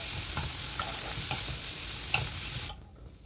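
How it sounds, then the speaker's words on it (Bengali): Onions and chopped beans fry in a pan over medium heat, a steady close sizzle broken by light rhythmic stirring scrapes, cutting off abruptly near the end, with no talk. "আবারও একটু লাল লাল করে ভেজে নিলাম।"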